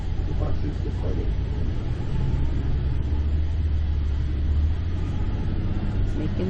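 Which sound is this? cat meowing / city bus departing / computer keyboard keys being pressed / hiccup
city bus departing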